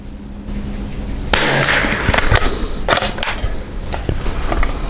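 A single sharp report from a CZ 455 full-stock .22 LR rifle fired at an outdoor target range, rising abruptly out of quiet background noise, followed by a few fainter clicks and knocks from handling.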